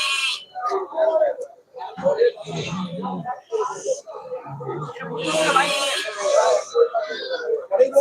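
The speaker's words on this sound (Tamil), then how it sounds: "செம்மறி நாட்டுக்கடாய்கள்" Native rams bleat repeatedly amid a busy, noisy crowd at the Melapalayam goat market in Tamil Nadu, with people talking in Tamil over the animals at close range.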